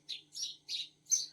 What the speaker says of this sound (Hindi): कितनी प्यारी चिड़िया बोल रही है भाई